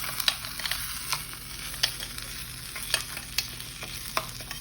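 Seasoned Mexican corn being stirred in a tin makes a soft frying hiss, with a spoon scraping and clicking against the metal every second or so.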